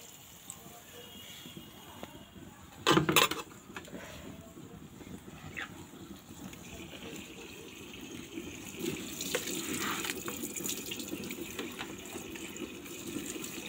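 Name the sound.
water being poured into a cooking pot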